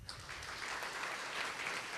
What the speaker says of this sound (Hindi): एक बार अपने टीचर्स के लिए ताली बजाइए